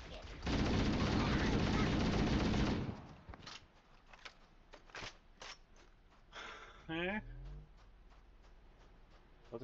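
Video game gunfire: a dense, loud burst of rapid automatic fire for a couple of seconds, followed by scattered single shots and clicks, with a voice speaking briefly.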